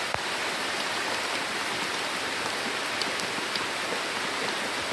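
Heavy rain pours steadily outdoors at night beside a river, a dense unbroken hiss with faint scattered drips, loud and close throughout with no voices.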